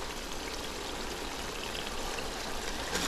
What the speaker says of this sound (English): Now I will go ahead and add about half a cup of water